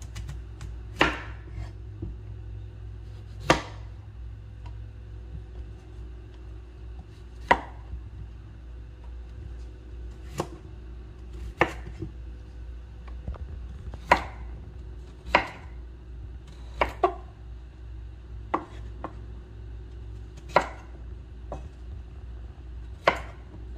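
A knife chops tender chayote into strips on a cutting board in a home kitchen, with about a dozen sharp, separate knocks at an uneven pace over a low steady background hum, and no talking.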